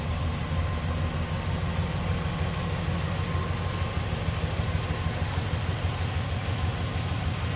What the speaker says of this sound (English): There's the AC compressor kicking on.